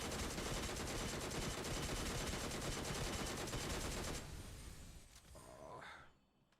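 Rapid automatic fire from a UMP submachine gun in a video game, a dense, loud unbroken burst lasting about four seconds before cutting off into quieter trailing sounds.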